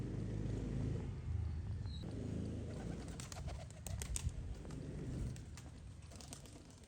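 Pigeons shut inside a cage coo softly and shuffle, a faint low murmuring throughout with scattered light clicks and wing rustles in the latter half.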